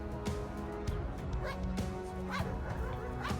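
Police dogs at a municipal civil guard kennel bark and yip in a few short bursts against a steady busy background, moderately close.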